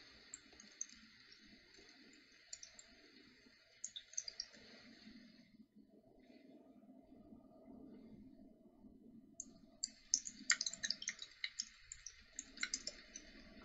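Computer keyboard keys clicking in quick, irregular bursts, strongest at the start and near the end, with a quieter stretch between and low background murmur underneath.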